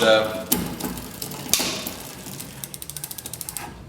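A bicycle rear derailleur shifts onto the largest gear with a couple of sharp clicks, followed by the rapid, even ticking of the freewheel ratchet as the wheel spins down nearby.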